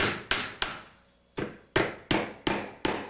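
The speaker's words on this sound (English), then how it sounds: "Then drive the finishing nails." Seven sharp hammer strikes driving finishing nails part way into trim at stud locations, spaced irregularly with short pauses between groups, each a crisp close impact ringing briefly.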